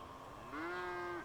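A cow in GTA 5 gives a single short, low moo that rises and then holds steady, fairly faint and alone.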